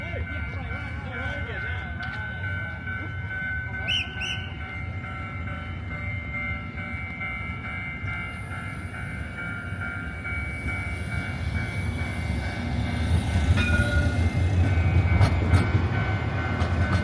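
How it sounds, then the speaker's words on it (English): A train rumbles past near a swing bridge in Taiwan, a steady low roar that builds louder toward the end, with faint squeals and clanks on top and no talk. "here comes the train."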